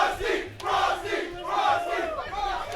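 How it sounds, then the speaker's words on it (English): A packed gaming tournament crowd roars and cheers at full volume, surging in repeated waves of yelling across the whole moment, loud and close with no clear talk over it. "The crowd going insane."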